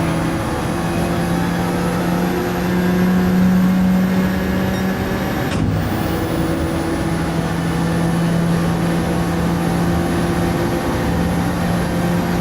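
A race car lapping the Nürburgring in Gran Turismo 7 during a 24-hour endurance race, with a steady, loud engine drone at constant revs and a brief shift in pitch partway through.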